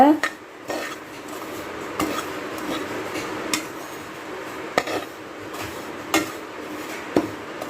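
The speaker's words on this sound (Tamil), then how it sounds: "சிம்மில் வச்சு ரோஸ்ட் பண்ணுங்கள் வாசனை வர வரைக்கும் ரோஸ்ட் பண்ணிவிட்டு" Roasting in a pan over a low flame while being stirred, with repeated metallic clinks and scrapes of a spoon against the pan at an uneven rhythm, close up and moderately loud.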